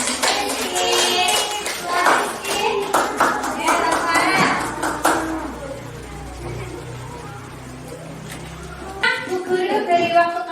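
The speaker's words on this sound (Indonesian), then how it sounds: "beri tepuk tangan untuk Rizky." Students in a classroom clapping hands for a classmate, a burst of lively clapping mixed with voices, then a quieter stretch with a low engine hum outside, and more clapping and chatter at the end.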